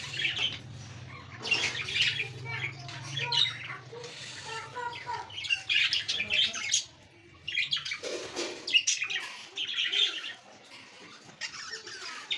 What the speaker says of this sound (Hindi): तो माशाल्लाह ये है हमारे ऑस्ट्रेलियन तोते।